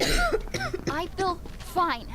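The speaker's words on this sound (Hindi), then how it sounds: "खांसी है बस इसको तो" A character in a zombie video game coughs several times in a choppy, throaty series, with voiced, strained tones and throat clearing, loud and close.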